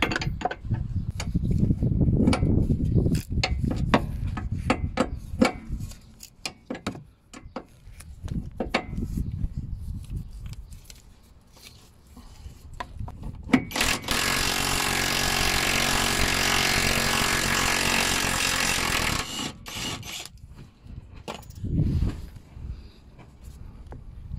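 A car suspension bolt is worked loose with an 18 mm spanner during an MOT-fail repair, giving repeated close metallic clicks and scrapes, then a steady broadband hiss for several seconds in the middle before the clicking resumes.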